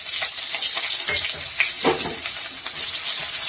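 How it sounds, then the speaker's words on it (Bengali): Onion frying in the oil left over from frying fish, with dried red chilli and nigella seeds, giving a loud, dense, continuous close sizzle with a few stirring scrapes and no voices. "পেঁয়াজটা একটু ভেজে নেব"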